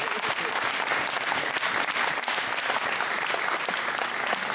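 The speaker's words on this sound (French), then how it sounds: "On peut les applaudir, s'il vous plaît." A crowd at a French hypnosis awards show applauds, with steady, dense, full clapping that stays loud and even throughout.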